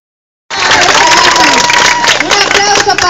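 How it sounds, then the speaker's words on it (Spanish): Abrupt, loud applause and cheering break out for the little girls at a Three Kings' Day dance party, a busy crowd of clapping hands mixed with excited voices and hubbub, sustained to the end. "un aplauso para las pequeñitas que están aquí"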